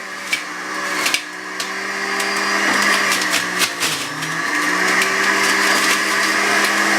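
A juicer grinds romaine lettuce with a steady, loud motor whine, broken by brief knocks and crunching bursts as leaves are pushed down into the chute.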